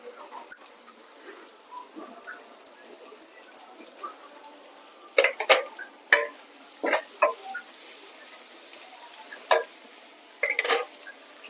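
Onion tossed into garlic already frying in a pan, a steady sizzle broken by scattered clinks and scrapes of stirring, close and fairly loud with no talk.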